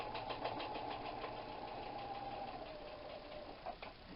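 A sewing machine stitches a classic tote bag in a steady, fast, even mechanical whir with a faint rhythmic ticking, running continuously and fairly quietly with no talking.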